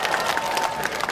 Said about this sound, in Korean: 손민아 씨에게 함성 박수가 필요한 순간이 아닌가 생각이 듭니다.